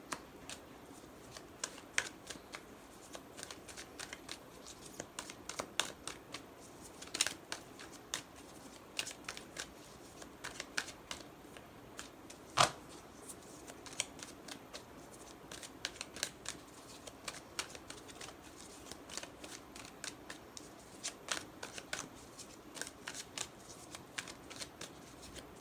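Tarot cards being shuffled by hand, a dense steady run of soft riffling card flicks that carries on for the whole stretch, close and fairly quiet, with no one speaking.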